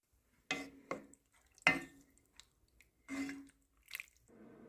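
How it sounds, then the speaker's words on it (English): Ketchup, honey and soy sauce stirred into Japanese curry made with Golden Curry roux: a handful of quiet, separate scrapes and clinks of a utensil in the pot, with short pauses between strokes and no talking. "Then give it a good stir to combine everything beautifully."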